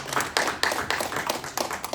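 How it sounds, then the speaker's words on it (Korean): A church congregation clapping in thanks, a short burst of scattered claps in loose rhythm from a smallish group, fairly close and with no voices over it. "감사의 박수로 한번 영광 올리시겠습니다."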